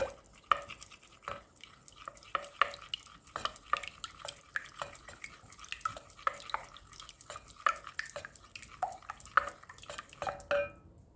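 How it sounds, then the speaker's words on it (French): Spinach quiche ingredients are stirred in a bowl, giving a string of light, irregular scraping and clinking taps heard close and fairly soft, with no talk. "On va bien les mélanger."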